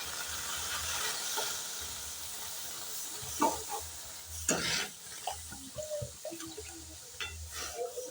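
Boiled cow's milk is poured into a pan of fried food, bringing a steady hiss and steam with a few sharp sizzling bursts and stirring clatters, close and moderately loud, with no talking.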